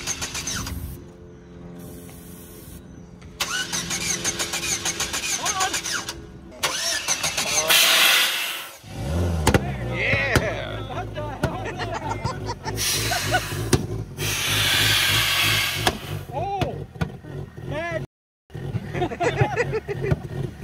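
A Chevy S10 engine with no intake and no oil, fed heavy nitrous, cranks and runs loudly and roughly, rising and falling in harsh bursts with brief cutouts, while voices talk over it at times.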